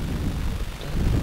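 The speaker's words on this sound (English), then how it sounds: "The wind." Wind buffeting outdoors on a freezing riverbank during a winter zander fishing trip, a steady low rumble against the microphone that swells and dips over a second without any voices.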